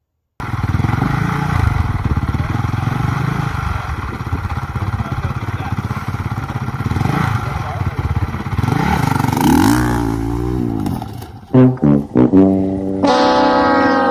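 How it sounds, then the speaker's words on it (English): A motorbike engine revs loudly and steadily with a rough, buzzing drone, rising in pitch near the end before choppy bursts and a final high whine, heard through the speakers of a played video. "I found another video of Doug trying to ride a bike again."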